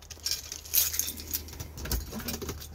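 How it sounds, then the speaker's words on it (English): Keys jingle and clink as they are grabbed inside a Forest River Sunseeker 2400W motorhome, a burst of light metallic rattling that comes and goes softly, close by with no talk. "Then grab your keys"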